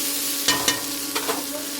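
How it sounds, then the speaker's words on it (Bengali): Lentil fritters (bora) frying in a pan, a steady close sizzle with a few sharp stirring scrapes and clicks, no talking. "আর বড়া এদিকে আমার এই লাল লাল করে ভাজা হয়ে গেছে"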